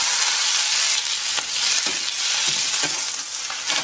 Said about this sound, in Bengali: এবারে দেখো তেলের মধ্যে আমি দিয়ে দিচ্ছি পেঁয়াজ, আদা, কাঁচা লঙ্কা আর টমেটো